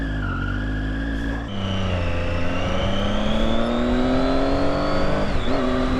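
A 2012 Triumph Daytona 675 pulls away hard, its engine note dropping at a gear change and then climbing steadily again, loud and close, with rising whine and rushing wind.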